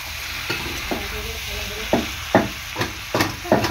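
Spicy homemade desi goat mutton cooking in a pan, with a spatula stirring and scraping in repeated strokes over a steady close sizzle.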